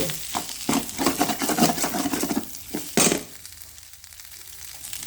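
Leftover rice is stirred and roasted in a tempering in a pan, heard as close, repeated spoon scrapes and clinks over a sizzle, with one sharp metallic clank before things go quieter.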